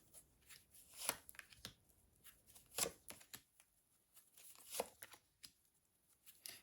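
Soft papery riffling and flicking of playing cards being shuffled, in repeated short bursts, close and fairly quiet with no talking.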